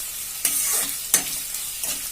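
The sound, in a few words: chopped garlic frying and sizzling for chilli chicken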